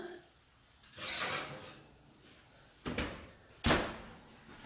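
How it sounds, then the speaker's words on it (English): An oven door pulled open and a baked keto low-carb gluten-free fried chicken dish slid out, heard as a rubbing scrape followed by two sharp knocks close by, otherwise quiet with no talk. "let me just pull this out of the oven"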